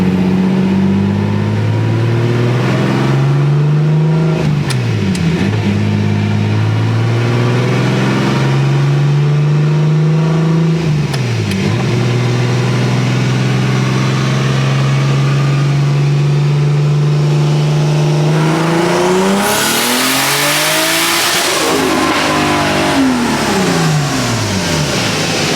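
A turbocharged Toyota 2JZ engine on a stock ECU, eBay turbo and a 75-shot of nitrous idles and blips loudly on a dyno, then rises into a long climbing full-throttle pull that ends in a rushing roar.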